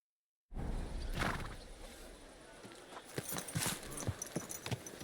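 A horse in the medieval video game Kingdom Come: Deliverance II clip-clops on the ground, scattered hoof knocks rising after a quiet start over a steady ambient background.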